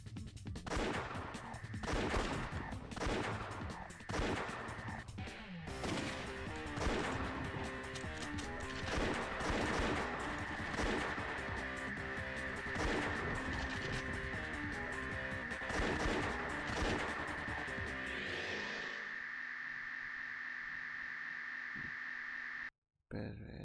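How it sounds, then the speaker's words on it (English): Gunfire aimed at a car's tires in the PS1 video game VIP, heard as repeated loud shots and impacts over driving game music and a steady tone for about 18 seconds, after which it fades to near silence. "Shoot the tires."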